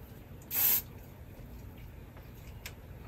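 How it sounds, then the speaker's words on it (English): A peony and prosecco room spray gives a single short, bright hiss of one pump, close and fairly loud against a quiet indoor room. "I ended up getting this room spray, and it's peony and prosecco."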